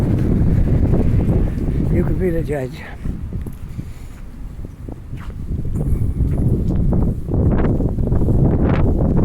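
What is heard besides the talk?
wind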